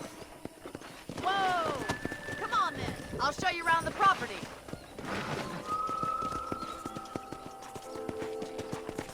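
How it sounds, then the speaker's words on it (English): Horse hooves clip-clopping as a rider sets off in Red Dead Redemption on PS4, with a whinny and steady footfalls running under close, continuous character dialogue and faint wind noise. "Okay, let's see if you can still ride a horse."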